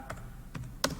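A few light keystrokes on a computer keyboard while entering a question into a Google Form, three quick close taps within about a second, with no voices.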